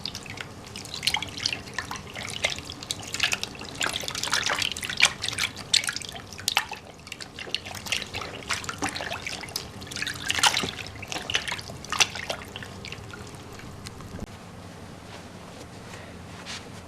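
Water runs and trickles steadily for a long stretch as dyed fabric soaks in a sink, with splashy drips rising and falling at moderate volume and no talk.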